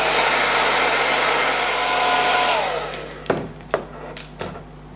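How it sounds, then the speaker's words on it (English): A handheld blow dryer on its cool setting blows a steady, broad whoosh onto wig adhesive, then winds down and stops, leaving a few sharp clicks and knocks. "then I'm dry it down with cool air on my blow dryer"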